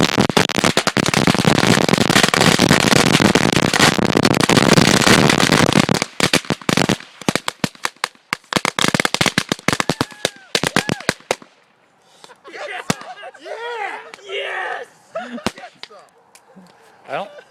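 Fireworks packed inside an old computer go off in a dense, loud barrage of crackling bangs, then thin out into scattered pops and snaps as burning plastic crackles, with voices talking near the end.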